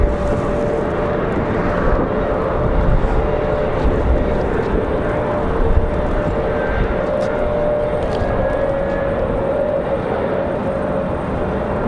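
A Frontier Airlines jet departs Raleigh-Durham airport in strong gusty wind near 35 knots, its sustained engine roar with a steady droning tone heard from a parking garage, mixed with wind rumble and a few faint clicks and knocks.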